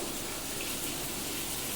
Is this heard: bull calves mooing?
no